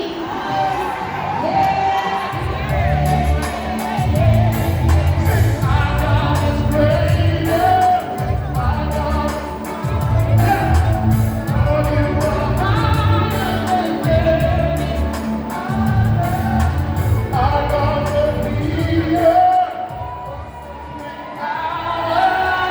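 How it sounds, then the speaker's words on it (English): A large audience roars with cheering, shouting and whoops for a reggae singer. The sustained, loud crowd noise swells and dips in waves for over twenty seconds, then thins toward the end. "Give him a round of applause"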